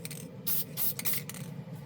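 Short bursts of Testors wet-look clear lacquer sprayed from a can in light misting coats inside a spray booth, several close hissing puffs in an uneven rhythm over a soft steady background.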